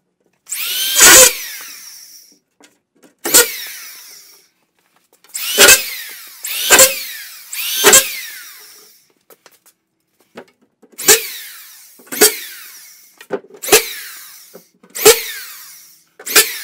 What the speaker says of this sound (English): Use my indicator points just to get a few screws in before I finish screwing it all off.